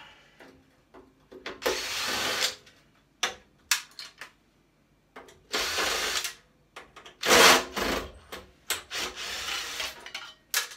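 Screws are removed from a welder casing with a power tool, giving several loud bursts of whirring and grinding separated by short pauses, close up with no talk.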